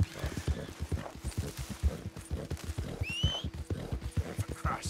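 Horse hooves clip-clopping in the video game Red Dead Redemption, a steady rhythmic trot of clear, close hoofbeats with a brief whinny partway through and faint game ambience underneath.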